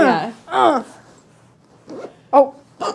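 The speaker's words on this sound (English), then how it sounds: "Just zip it up." A zipper on a fabric pillow cover with an insert inside is pulled closed in a few quick rasping strokes, close by and brief, with someone talking around it.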